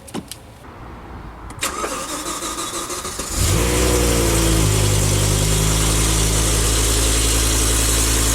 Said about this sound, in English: This car has not been started yet for the day, so we're going to start it.